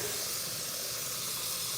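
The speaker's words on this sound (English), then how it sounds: "I'm gonna fill this up with water." Tap water runs steadily into a pan for boiling pasta in a home kitchen, a continuous close hiss of flowing water with no talk over it.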